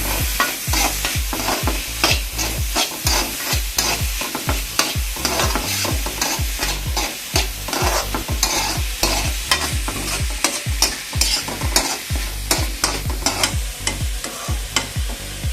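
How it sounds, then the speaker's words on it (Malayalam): Grated coconut roasting in a hot pan while being stirred, with a loud, continuous sizzle broken by rapid, regular scraping strokes of the spoon, close up and with no voices. "ഒന്നുകൂടി മൂക്കാനുണ്ട് തേങ്ങ."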